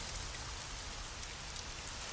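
Steady rain falls outdoors in an animated children's scene, a continuous soft hiss of drops with no other sounds standing out.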